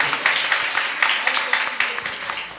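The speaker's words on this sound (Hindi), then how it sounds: "इनके लिए जोरदार ताली बजाइए।" Crowd at a Jain community forgiveness festival gathering applauding loudly, a dense burst of many hands clapping with regular accented beats, steadily fading over a couple of seconds.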